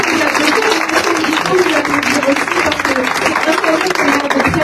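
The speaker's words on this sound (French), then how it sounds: "je pense que vous pouvez vous applaudir de faire ça" An audience at a press conference with Miss France contestants applauds in a dense, continuous wash of clapping, with voices mixed in throughout.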